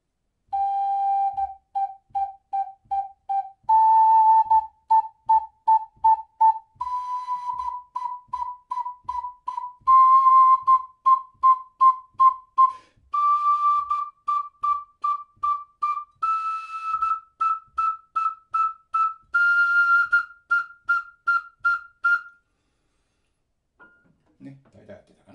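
Ocarina practice playing an ascending scale, each pitch repeated as short staccato eighth notes in groups, stepping higher every few seconds, clear and solo, ending with a brief low rustle.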